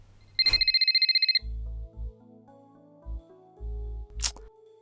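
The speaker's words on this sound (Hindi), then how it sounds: "आपका फोन कितनी देर से बज रहा है" A phone rings with a rapid electronic trill lasting about a second, followed by low thuds and rustling, then a brief sharp click near the end.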